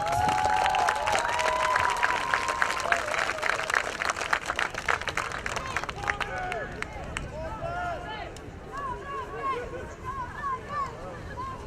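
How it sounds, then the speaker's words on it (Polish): Crowd clapping and cheering at an American football game, steady and loud, with dense broadband noise; Polish voices and announcements mix in throughout. "Wielkie brawa dla tego zawodnika."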